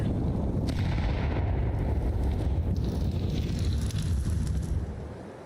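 Rumbling explosions from grenades in a first-person shooter match, a continuous heavy low roar with wind-like noise, loud and near, holding steady before fading slightly at the end.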